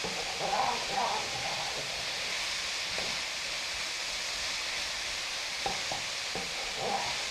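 Vegetables are stir-fried in a pan, giving a soft, steady sizzle with light scraping from stirring that runs throughout.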